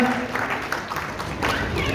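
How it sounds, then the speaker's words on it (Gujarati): Audience applause at a charity show, a short burst of clapping from a crowd heard together with a speaking voice. "તાળીનો ગડગડાટ કરજો"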